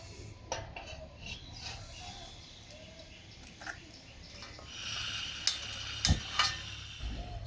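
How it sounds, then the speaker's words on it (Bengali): A metal wok clanks as it is set down on a stove for dry-roasting semolina, with a few sharp knocks and scrapes over a low background hum. "টেলে নেওয়ার জন্য উনুনে বসিয়ে দিচ্ছি কড়াই"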